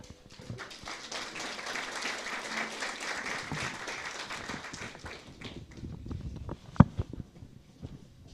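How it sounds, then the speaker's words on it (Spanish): A church congregation at an Aymara Sunday service applauds to welcome a singing group, a moderate wash of clapping for several seconds that fades out, followed by scattered knocks and movement and a sharp bang. "los vamos a recibir,"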